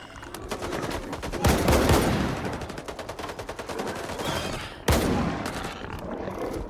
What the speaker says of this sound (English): I'm not trying to shoot the freedom guys.